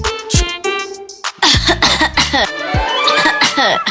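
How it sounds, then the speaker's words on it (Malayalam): A couple of sharp coughs break out, mixed in with a voice making sounds, close and fairly loud. "ഇതിന്റെ തൊണ്ടയ്ക്കൊരു പെട്ടെന്നൊരു ചുമ"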